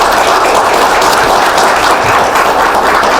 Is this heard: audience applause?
yes